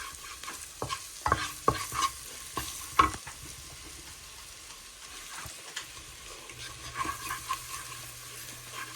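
Curry sizzles in melted butter in a pan, with a spoon scraping and clattering against the metal in quick, irregular strokes over a low, steady frying hiss.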